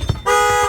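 A diesel van's horn sounds once, set off by an arm brushing the center of the steering wheel, a steady loud nearby blare of about half a second after a brief knock.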